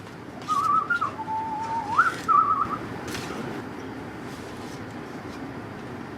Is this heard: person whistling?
yes